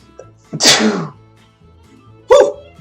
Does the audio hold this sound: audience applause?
no